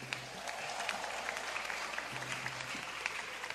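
A church congregation applauds loudly during a healing message, a dense sustained wash of many hands clapping at once, steady for several seconds with a faint low hum beneath.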